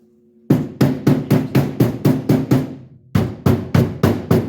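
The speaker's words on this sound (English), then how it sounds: "a ball peen hammer" A ball peen hammer strikes metal on a Mercury Capri build: about nine sharp, evenly spaced taps, a brief pause, then five more, close and loud with no talking.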